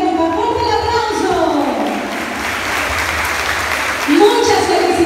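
Applause for primary school students from Progreso receiving an academic excellence award, a crowd clapping steadily and fairly loudly at an indoor ceremony, with voices talking over the clapping.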